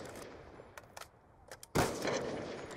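Video game gunfire crackles in a few scattered, faint shots, then a louder close burst cuts in and keeps going with sustained rattling fire.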